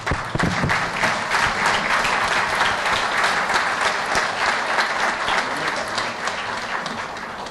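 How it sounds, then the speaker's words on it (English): Conference audience on its feet giving a standing ovation to a speaker at a regional conference in Madurai, loud dense clapping sustained throughout and easing a little toward the end. "May I request all the members to give a standing applause to our speaker"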